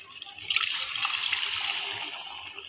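Water pours into a pan of gongura chicken curry with ginger paste in a brief rushing splash, moderately close, swelling and then fading away.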